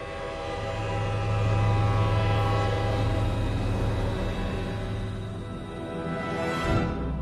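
Chennai Express train rumbling steadily and loudly past, with a long droning horn sounding through most of the passage before the noise fades near the end.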